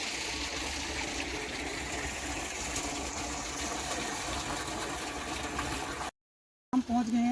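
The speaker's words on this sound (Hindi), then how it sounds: "देख रहे हैं आप कितना पानी, स्वच्छ जल यहाँ पे बह रहा है" Clean water flowing steadily through a village stream in Uttarakhand, a continuous close rushing wash that cuts out briefly near the end before resuming.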